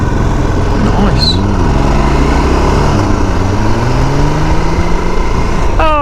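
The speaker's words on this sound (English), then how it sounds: "he's gone with his loud exhaust" A passing vehicle with a loud exhaust drones past a motorbike rider on a road ride, its engine note rising and falling over steady wind and engine noise, fairly close and loud.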